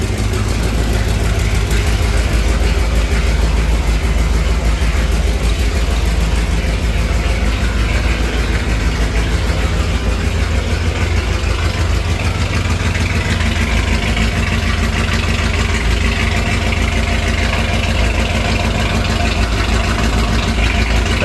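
A 1985 IROC-Z clone's V8 idling with no muffler, heard from behind the car: a loud, steady, throbbing low exhaust rumble that continues unbroken throughout.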